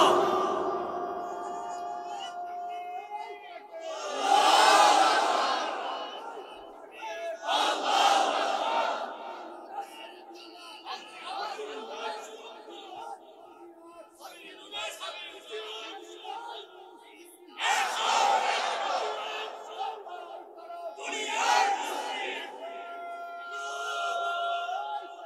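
A large crowd at a religious rally in Bangladesh loudly shouting the takbir, "Allahu Akbar," in repeated surging call-and-response bursts, with pauses between the roaring chants.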